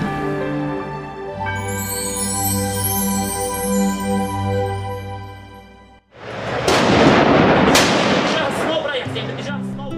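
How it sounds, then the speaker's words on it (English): Sustained tonal music gives way abruptly to loud bursts of gunfire with sharp cracks and rumbling echoes, a low hum returning at the end. "At the sound of gunfire, everyone looks fearful and apprehensive."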